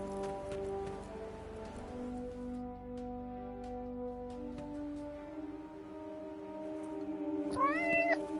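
A cat in the video game Forspoken meows a few times, the calls fairly clear over a soft rain-like hiss and low ambient music, with a brighter chirpy meow near the end.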